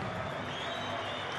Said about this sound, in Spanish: la ovación que se llevan uno y otro